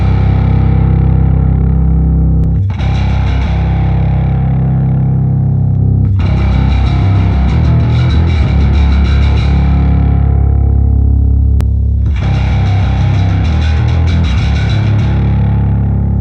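Bass guitar run through The Growler plugin with the IR1 plus sub setting plays three long sustained distorted notes, thick and buzzy with a heavy rumbling low end, loud and alone.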